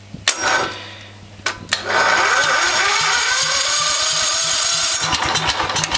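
A few sharp clicks and cranks, then a small horizontal-shaft engine with a fan starts and settles into a steady, loud running drone close by, continuing without talk.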